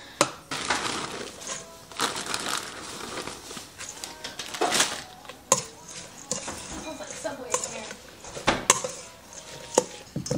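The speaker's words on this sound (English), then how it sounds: "then you just put your shredded lettuce in here and mix it all together" Shredded lettuce being mixed into a grinder salad in a bowl, with irregular scraping, tossing and clattering of utensils against the bowl in bursts, close and fairly loud, with no talking.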